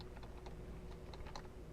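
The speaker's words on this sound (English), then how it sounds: "Oh, this keyboard isn't working?" A computer keyboard clicks faintly under a steady hum, with scattered light keystrokes and a small burst of taps near the end, no voices.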